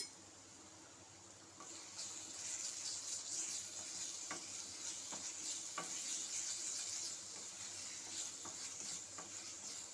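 Ginger garlic paste stirred into goat head curry in a pan, a soft sizzling hiss under faint, intermittent spoon scrapes and taps, close and fairly quiet.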